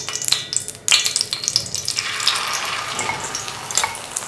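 An egg frying in ghee on a street-food griddle gives a close, steady sizzle with crackling pops and a few sharp clicks and scrapes near the start, no talk.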